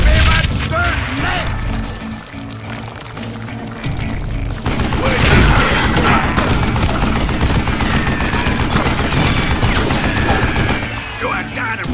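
Gunfire in the Western shooter Call of Juarez: Gunslinger, with loud, dense shots and bursts running throughout alongside game music and effects, while a voice talks over the shooting.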